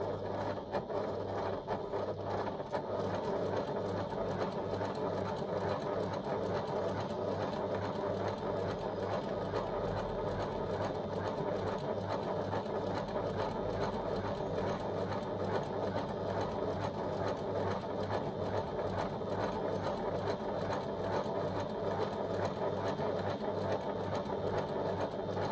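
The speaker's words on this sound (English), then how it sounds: "On top stitching, I try and keep a nice even tempo, so I'm not going too quickly." A sewing machine top stitching at a steady, even tempo, its rapid needle chatter running loud and continuous for the whole stretch, close by and with no talking.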